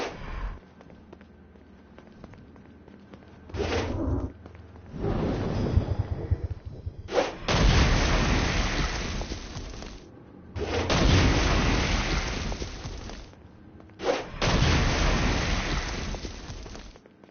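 Stone Blast attacks in the video game Saints Row: Gat out of Hell boom out as heavy, rumbling bursts, several long roaring blasts separated by short pauses, loud and dense.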